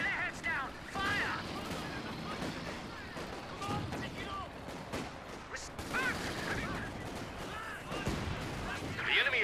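Battle sounds from a Company of Heroes 2 match, with a machine gun crew firing amid scattered gunshots and artillery blasts, busy and mid-distance, mixed under frequent unit voice callouts.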